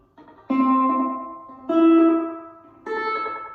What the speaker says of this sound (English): Kind of an echoey sound. It doesn't, not true drippy reverb, but not bad.